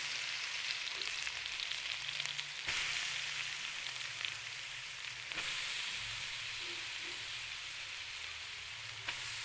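Carrots frying in melted ghee in a kadai for gajar ka halwa, giving a steady, dense sizzle that holds close and even throughout, with a few faint clinks and shifts of the pan.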